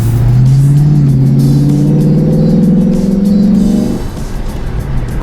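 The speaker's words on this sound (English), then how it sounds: "There's just nothing that compares to that V8 rumble." The V8 engine of a Lexus IS-F with an eight-speed transmission rumbles loudly and close while driving, holding a deep, steady drone that rises slightly in pitch before easing off near the end.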